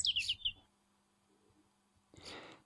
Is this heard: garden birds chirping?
yes